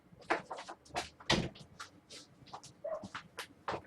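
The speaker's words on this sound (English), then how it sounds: "Let me close the door so my dog stop barking." A door is closed in a quiet room, giving a series of soft knocks and clicks mixed with shuffling handling noises. The sounds are fairly faint and no one speaks.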